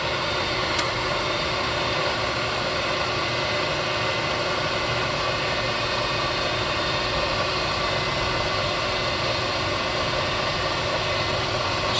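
A Bridgeport 1-1/2 HP vertical milling machine with a 9 by 42 inch table runs with its power feed engaged, making a loud, steady whirring mechanical drone with broadband noise that continues unchanged throughout, with no talking.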